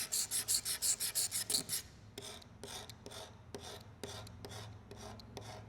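A knife blade rasps repeatedly across a Corian solid surface countertop, first in a quick string of about ten sharp rhythmic scratches, then slower, softer scraping strokes, close and clear with no talk.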